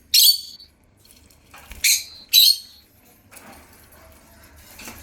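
A lutino African lovebird gives three sharp, high chirps, one alone and then a quick pair, followed by faint rustling and nibbling sounds.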